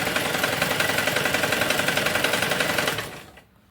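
A sewing machine runs steadily, stitching a folded blouse dori rope with a fast, even needle rhythm that stays loud and close for about three seconds before stopping abruptly.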